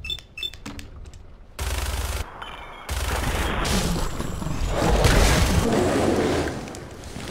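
Gunfire in Fallout 4 bursts out loud and close, with rapid automatic volleys and heavy booming shots running nearly continuously, broken by brief clicks and pauses, with no talking over it.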